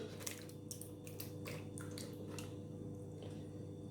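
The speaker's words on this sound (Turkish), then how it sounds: "ben böyle yoğurdumu genelde böyle süzüyorum" Thick yogurt is poured into a napkin-lined strainer, producing soft wet squishes and drips in a faint, close, irregular sequence with no talk.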